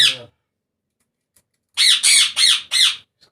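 A caged chukar partridge of the Lath breed, kept in a breeding setup, gives loud close squawking calls: a short call first, then a quick run of four harsh notes after a pause.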